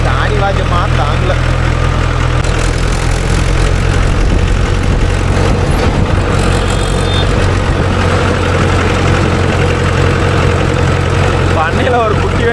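A Mahindra 415 or 575 DI tractor engine runs steadily on a farm during cow-dung and water loading work, a constant low diesel rumble and idle throughout, with voices talking over it.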